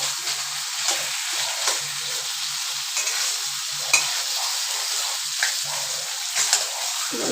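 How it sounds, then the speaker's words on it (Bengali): Taro leaves with dried loitta fish are stirred in a dry pan with no water, making a constant close sizzle broken by periodic scraping strokes and small spatula knocks. "ভালো করে নেড়ে চেড়ে, এখানে আমি কোনো রকম জল ইউজ করব না।"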